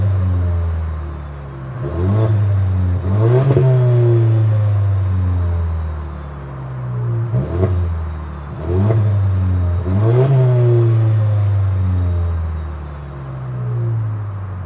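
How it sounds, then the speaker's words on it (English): A 2024 Toyota Tacoma with a TRD exhaust and synthesized engine sound accelerates in loud, close runs, the tone climbing through several gear shifts in repeated surges with dips between them. "take in a little bit of that synthesized sound combined with the TRD exhaust that we have on this one"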